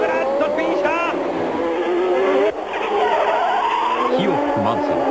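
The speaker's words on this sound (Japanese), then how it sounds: "くるくるっとスピンした。" Formula 1 cars at the 1990 United States Grand Prix, one spinning out with tires skidding as engines wail and sweep in pitch, loud and continuous over excited race commentary.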